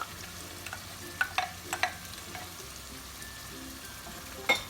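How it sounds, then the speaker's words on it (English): Blended tomatoes hitting a hot pot for Ghanaian jollof rice, a soft continuous sizzle with scattered clicks and light clatter of stirring, fairly quiet and close. "add my blended tomatoes, and it all goes in, and you can see"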